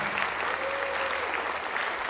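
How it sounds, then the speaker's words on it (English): Steady applause from an auditorium audience fills the whole stretch, a dense continuous patter of clapping with no pauses. "Please give them a round of applause."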